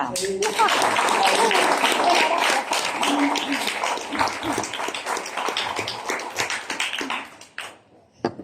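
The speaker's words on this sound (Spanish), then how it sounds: "un aplauso" Audience applause at a book presentation, a loud burst of many hands clapping that thins out and fades over several seconds, with scattered voices mixed in near the end.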